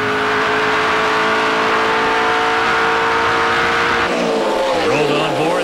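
NASCAR Canadian Tire Series stock cars race at Mosport, a loud, continuous engine roar with a steady high whine that holds, then shifts in pitch as the cars pass close by with tires scrubbing.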